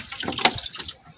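Water gushes and splashes out of a siphon pipe in a short, uneven burst, close and fairly loud, with faint speech underneath.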